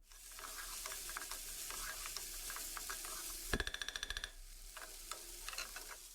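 Chicken stirred with green curry paste in hot oil, a steady sizzle and frying hiss broken by scraping utensil strokes, with a brief burst of rapid rattling clicks in the middle.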